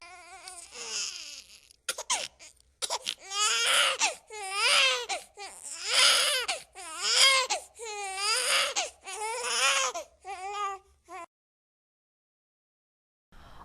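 An infant cries in repeated loud, wavering wails with short gasping breaks, fairly close, then stops into silence near the end.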